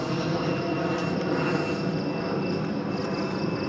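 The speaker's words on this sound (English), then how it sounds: "you can hear all those airplanes flying" Airplanes fly over a park, a steady, even engine roar that holds throughout with no talking.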